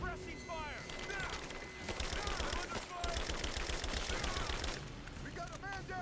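Suppressing gunfire in Rise of the Tomb Raider, forming a dense, continuous wash of shots and clattering mechanical noise with chirpy effects at the edges and no clear pauses.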